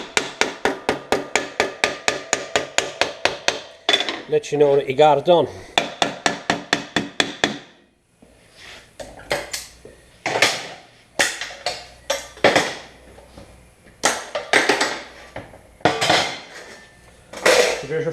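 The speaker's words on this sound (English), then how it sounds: "you can hear the change in the hammer pitch" Hammer blows bending over a sheet metal flange on a door bottom, a fast even run of sharp metallic strikes up close, then slower irregular hits whose pitch shifts as the metal folds; someone speaks briefly between blows.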